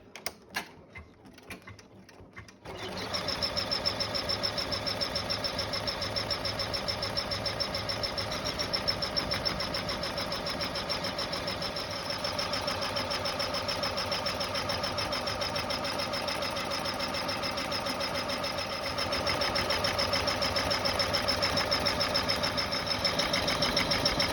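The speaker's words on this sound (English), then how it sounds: "With your hoop back on the machine, stitch out the 2nd to last step on the stitch map." An embroidery machine stitches out a step on a hooped tab-style credit card holder with an eyelet, a continuous fast mechanical whirring and needle ticking that runs steadily for over twenty seconds, close and without talk.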